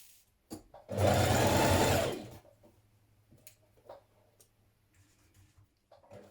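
A sewing machine stitches a seam around the neckline of a Simplicity 8875 summer dress, running in one loud, steady burst of about a second and a half, followed by quiet handling sounds.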